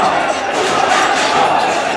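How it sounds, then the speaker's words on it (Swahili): Soccer fans cheer in a dense, steady crowd roar at a KSSSA secondary-school boys' penalty shootout, the noise continuous and loud throughout with no single voice standing out. "Mashabiki wanashangilia hapa."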